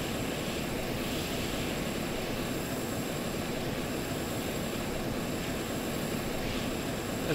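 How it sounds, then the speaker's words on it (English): An aircraft engine drones steadily and evenly throughout in the flight and rescue game Stormworks, a broad continuous roar with no change in level and no talk over it. "There's a plane."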